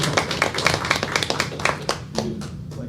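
A small group claps at a school board of education meeting, giving a short, fairly sparse round of applause that thins out toward the end.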